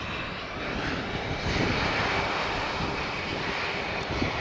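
An airliner, a Malta Air jet bound for Stansted at Faro Airport, gives a steady, loud broadband engine roar that holds evenly throughout, with no voices.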